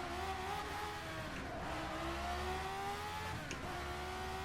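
A classic Formula 1 car engine in rFactor 2 howls steadily at high revs, its pitch climbing through the gears, with brief dips at each shift, loud and continuous with no talking.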